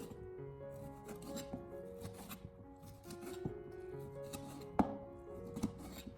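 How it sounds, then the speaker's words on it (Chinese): A knife chops beef brisket into small pieces on a cutting board, a steady run of crisp, close taps with a couple of sharper knocks, soft and alone. "先把牛腩对半切开，切成小条，最后再将它改刀切成小块。"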